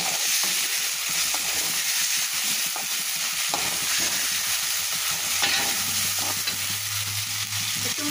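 Prawns hit hot mustard oil in a wok with softened onions, giving a steady, loud, close sizzle with stirring scrapes throughout and no talking.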